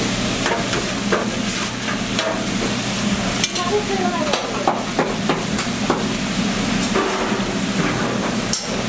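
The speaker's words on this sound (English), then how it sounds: "Oh, they're frying it now?" Fried rice sizzles in a busy roti shop kitchen in Queens, with a steady fry hiss broken by sharp metallic clanks and scrapes of a utensil against the pan, close by.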